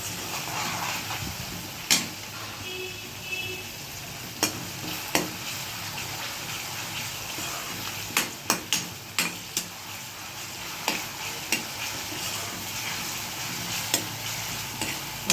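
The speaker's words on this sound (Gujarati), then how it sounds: "પહેલાં જીરું મૂક્યું ને વઘારમાં, પછી ડુંગળી ટમેટા મરચાં મૂક્યા." Onion, tomato and chillies sizzle in hot tempering oil over cumin seeds, a steady broadband crackle with scattered sharp ticks and clinks of a spoon against the pan throughout.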